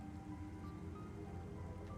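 Steady rain in the video game Metroid Prime, a faint, even wash of falling drops running unbroken throughout with no voices.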